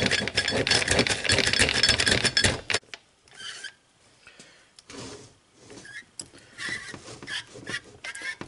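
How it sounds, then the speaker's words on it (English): One-way sprag clutch in a 4L80E transmission being turned by hand, a loud continuous ratcheting rattle that stops abruptly, then sporadic softer clicks and scrapes as parts are handled. "This is a one-way sprag, and yes, that noise is normal."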